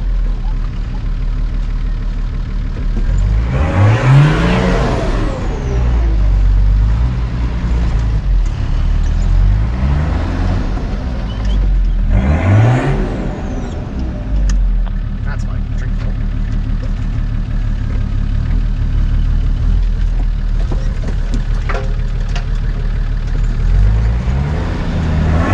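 Off-road 4x4 engine revving in repeated bursts as it crawls over rocky obstacles at night, with rising and falling surges around voices talking, steady low rumble between pushes.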